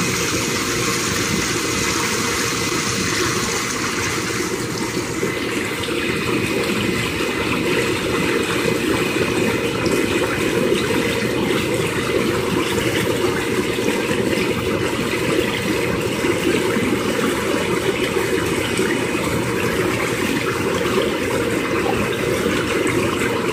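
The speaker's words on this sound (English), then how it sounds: "The only negative thing I would say about the bubbles is it is quite noisy." Bubble jets of an Intex PureSpa inflatable hot tub run continuously, a steady loud churning, bubbling roar with a motor hum underneath, with no voices.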